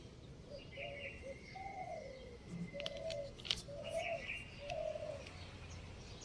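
A dove coos in a steady series of soft low phrases while other birds chirp higher up in a rose garden around six in the morning, with faint rustling and a few sharp clicks nearby.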